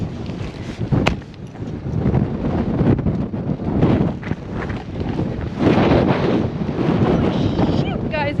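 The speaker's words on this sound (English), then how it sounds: "it is freaking windy" Strong gusts batter the microphone in heavy rumbling bursts aboard a 26-foot sailboat, with water and boat noise underneath and voices calling out over the roar.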